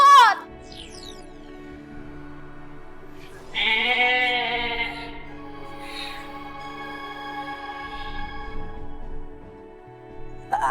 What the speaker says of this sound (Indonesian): Ada kambing.